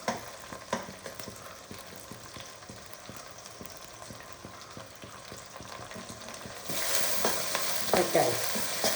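Tempering for a radish sambar frying and being stirred in a pan, with a steady sizzle and scraping stirs that grow louder and brighter in the last few seconds.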